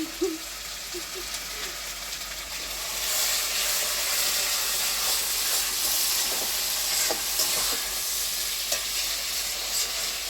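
Spice paste for goat meat curry stirred in a pot over a clay stove fired with wood, a continuous close sizzle and hiss with occasional scraping stirs, steady throughout with no speech.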